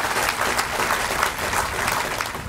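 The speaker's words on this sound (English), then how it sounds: "Let's give them a round of applause" Dense, continuous applause from a crowd at a veterans park grand opening, many hands blending into an even wash with no pause.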